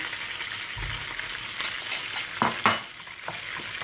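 Mashed potatoes get stirred into tomato paste frying in a pan: a constant hissing sizzle with scraping and soft wet clacks from the spoon, louder toward the end, no speech.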